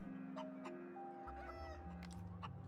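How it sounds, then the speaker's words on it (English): Chickens cluck in the video game The Outer Worlds, a few short calls sitting over steady in-game music and a low ambient hum, at moderate level. "Got some chickens."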